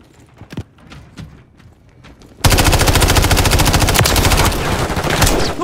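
Gunfire in Call of Duty: Modern Warfare 3: a few scattered shots and game clatter, then a sudden, loud, sustained burst of rapid automatic fire that hammers on without pause to the end.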